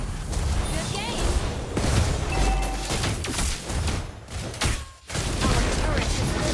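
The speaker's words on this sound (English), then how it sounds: "Our turret has been destroyed." Explosions and crashing impacts from a turret being destroyed in a MOBA Legends 5v5 match, dense booms layered over game effects and a voice, with a sharp drop near the end.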